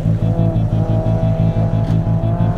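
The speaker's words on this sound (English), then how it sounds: "driving a car as fast as possible around cones in a parking lot" A Mitsubishi Evo tears around autocross cones in a parking lot, its engine holding a loud, steady drone with a fast rhythmic pulse throughout, close and continuous.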